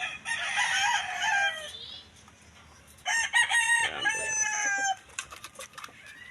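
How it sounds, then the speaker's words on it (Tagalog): A gamecock rooster crows twice, loud and close, each crow a long drawn-out call, with a brief cluck between them and faint clucking at the end. "Subukan namin game bird jack muna."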